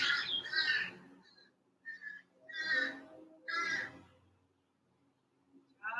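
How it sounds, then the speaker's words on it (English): Birds sing outdoors in bright, chirpy bursts, a few separate phrases with quiet gaps between them, moderately near and alone without talk. "I hope you can hear the birds."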